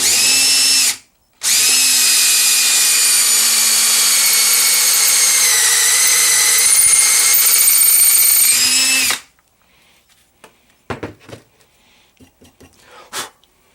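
A power tool spins up loudly and runs steadily for about eight seconds, cutting down a Quadrajet carburetor throttle shaft for a bushing, then stops, leaving faint handling clicks and knocks.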